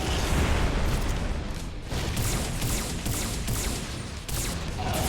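Boss explosions and beam attacks in the video game M.A.S.S Builder roar as a loud, continuous barrage of booming blasts and bursts, dense and unbroken with only brief dips.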